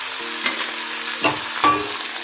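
Tomatoes frying in hot oil for a Bihari tadka, a steady close sizzle with a few sharper crackles and stirring scrapes, with no voices.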